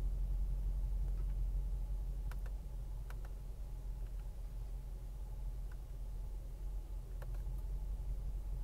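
A 2019-or-newer Mercedes G63 idling just after starting, a steady low rumble that holds evenly throughout with a few faint ticks on top and no talking.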